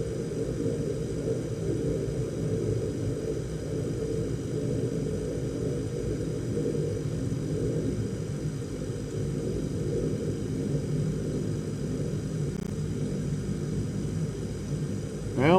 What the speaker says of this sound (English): That almost sounds like a prop.